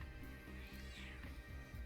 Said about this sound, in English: Shush up, cat.